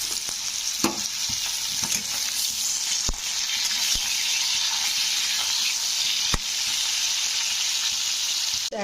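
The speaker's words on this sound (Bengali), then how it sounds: "তো বেগুনটা আলুর সঙ্গে ভেজে নেব" Brinjal, potato and carrot fry in a hot pan with a loud, continuous hissing sizzle and an occasional sharp pop close by. No one speaks.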